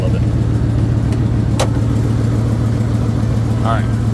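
Steady idle of a 1997 Ford F250 pickup's 5.4 Triton V8 engine, a continuous low drone with loose internal rattling, close and loud throughout with a few brief clicks.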